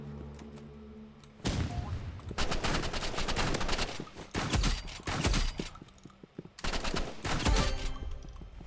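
Shotgun fire in the video game Rivals: loud, close blasts in dense bursts, starting after a quiet opening, pausing briefly, then returning in another heavy volley.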